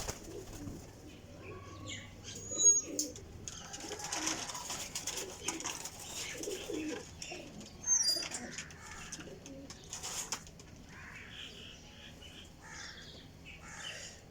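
High flyer pigeons coo softly at a pigeon loft, with low, throaty coos repeating throughout, some wing flutters and scattered bird calls. Someone talks quietly nearby.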